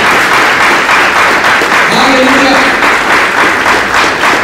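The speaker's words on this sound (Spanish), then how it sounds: "Dale un aplauso más fuerte." A church congregation claps louder and harder, a thick continuous roar of hands close by with shouted exclamations from the crowd layered over it.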